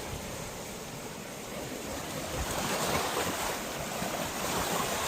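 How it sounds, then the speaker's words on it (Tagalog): Strong ocean waves surge and wash over a rocky shore at Akumal, Mexico, a loud, continuous roar that swells midway, with gusts of wind buffeting the microphone and no voices. "Ang lakas kasi ng waves."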